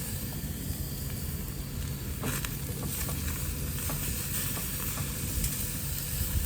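Food sizzles and fries steadily in a pan on a camping stove fed by a fresh gas bottle, a soft continuous crackle with occasional stirring clinks and scrapes, fairly quiet with no talking.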